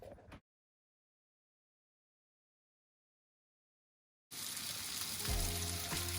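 Food sizzling and frying in a pan, a steady loud hiss that cuts in after several seconds of silence, with a short burst of sizzle at the very start.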